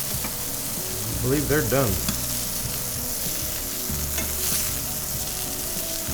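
Mushrooms caramelizing in a pan for farro risotto, a steady close sizzle with stirring scrapes throughout, and a brief spoken remark partway through.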